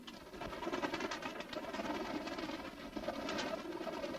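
Pigeons coo steadily inside a backyard pigeon loft, a soft continuous layered murmur of many birds close by, with no talking.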